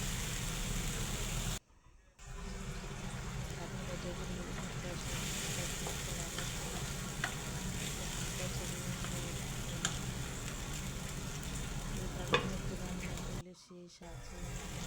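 Taro (mukhi) stir-frying with hilsa fish in a pan, a steady close sizzle with occasional scraping of a spatula, interrupted by two short silent breaks.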